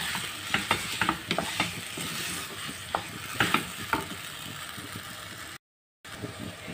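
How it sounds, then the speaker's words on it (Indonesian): Yellow noodles being stir-fried in a pan, with scattered scraping and clattering strokes of a utensil over a soft steady sizzle, fairly quiet and with no talking. "Ini yang mie goreng yang saya goreng ini"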